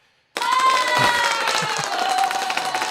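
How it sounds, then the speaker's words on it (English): An applause sound effect played into a live music-production stream, starting abruptly after brief silence: a crowd clapping and cheering with a few shouts, sustained at an even level. "I threw some applause sound"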